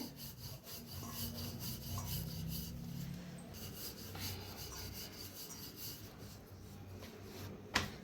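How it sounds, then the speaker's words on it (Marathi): A rolling pin rubs and rolls back and forth over stuffed paneer paratha dough, giving a soft, continuous scraping rhythm at close range and low volume, with a small knock at the end. "दोन्ही साईडने लाटून घेऊया."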